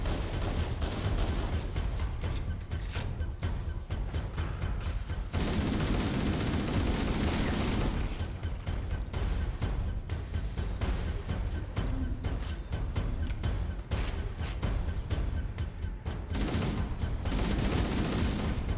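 Sustained gunfire from Halo: CE Anniversary as the Flood are fought on Legendary in The Library, with dense rapid bursts and booming impacts filling nearly the whole stretch at steady loudness.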